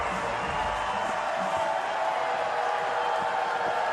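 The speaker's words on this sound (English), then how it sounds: "and listen to the crowd" A football stadium crowd roaring on fourth down in an indoor arena league game, a dense, sustained wall of cheering and noise that holds steady throughout, with no clear voices above it.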